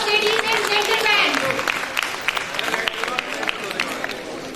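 Audience applause at the AHPCON-2016 conference at AIIMS Delhi, steady clapping that starts under a speaker's voice and then continues alone before tapering off.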